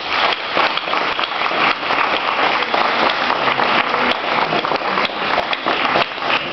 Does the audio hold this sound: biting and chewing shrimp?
no